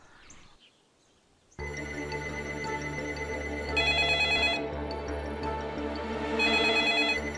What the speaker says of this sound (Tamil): என்ன இவ்வளோ ரிங் போகுது, ஃபோன் எடுக்கவே இல்லை?